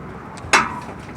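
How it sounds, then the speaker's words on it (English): A truck hood pops open during a pretrip inspection, a single sharp, loud latch clack with a brief metallic ring trailing off, over quiet background. "Now I'm going to pop my hood."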